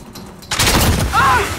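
Gunfire in a multiplayer video game striking a metal shipping container, a sudden loud burst of shots that holds steady for about a second, with a voice briefly heard over the noise.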